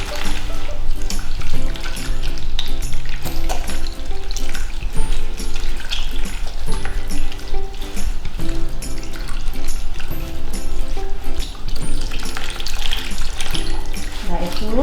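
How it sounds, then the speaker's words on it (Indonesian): Hands are rinsed under a running tap during handwashing before a physical examination of a mother, giving a loud, steady gush and splash of water that continues without a break. "bilas dengan air mengalir"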